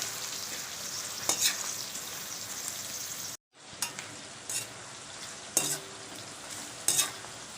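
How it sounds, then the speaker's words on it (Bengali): Roughly 400–500 grams of chopped onions fry in hot oil for chicken kosha, giving a steady close sizzle. A few sharp clinks of stirring break through, and there is a brief gap of near silence partway through. "পেঁয়াজটা ভালো করে ভাজা করতে হবে।"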